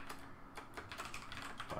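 Rapid, uneven keystrokes on a computer keyboard during programming work, a steady close clatter of soft clicks continuing throughout with no voices.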